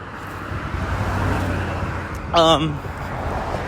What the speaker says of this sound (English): These cars are loud.